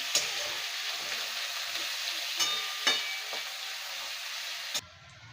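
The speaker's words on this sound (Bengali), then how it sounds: "পেঁয়াজটা আলুটা আবার ভেজে নেবো" Chopped onion and potato frying in a pan for a Bengali prawn curry, giving a steady bright sizzle with a few stirring clatters before it cuts off abruptly.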